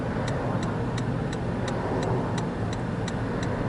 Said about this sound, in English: for a very small town, there is a lot of traffic, but it's all mostly flowing into Palatka.